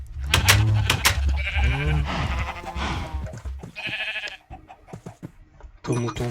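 Sheep bleat in the video game Minecraft, several short nasal bleats sounding in bursts alongside someone talking over the game sounds.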